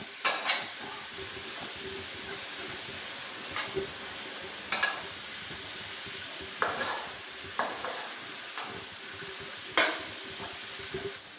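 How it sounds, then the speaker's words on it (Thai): Minced pork stir-fried in a hot pan until fragrant, a constant close sizzle punctuated by a handful of sharp scraping stirs of the utensil against the pan. "เราจะรวนให้หมู สุกแล้วก็หอมก่อนค่ะ"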